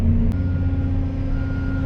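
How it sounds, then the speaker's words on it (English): A truck's reverse alarm sounds at a pond-digging site, a loud, steady electronic tone held close over a heavy engine rumble, with no talk. "Tried moving the truck over here"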